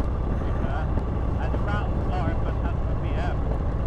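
A motorbike with worn or no suspension rumbles loudly over the rough, bumpy surface of Hardknott Pass in England, a steady low engine drone and wind roar with jolting texture throughout, while someone talks over it.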